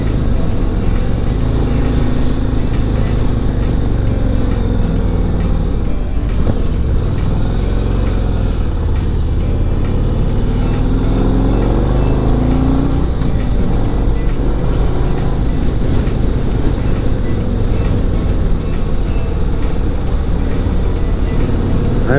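A brand-new touring motorcycle accelerating hard in sport mode, a loud continuous engine drone that rises and falls with the throttle under heavy rushing wind noise at speed.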